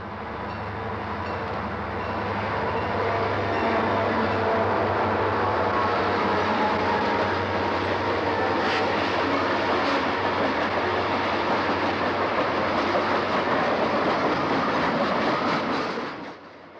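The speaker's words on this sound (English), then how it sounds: "a former Reading diesel already paint-patched with CR marks, leading a blue Conrail SD35 on the old Reading tracks that became part of Conrail" A former Reading diesel patched with Conrail marks leads a blue Conrail SD35 over old Reading tracks, a loud close engine drone with low throb and rolling wheel clatter that builds, holds, then cuts off.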